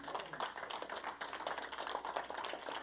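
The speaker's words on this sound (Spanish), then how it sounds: "Denle un aplauso a Él." A church congregation claps together in steady applause, a dense patter of hand claps at moderate distance with no voices over it.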